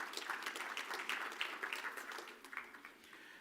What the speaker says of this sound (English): Round of applause, please, as they exit stage